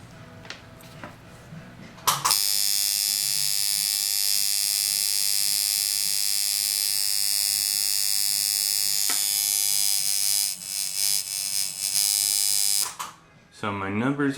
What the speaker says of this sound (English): So I would say that this machine is tuned correctly, even though it sounds different from the other machines.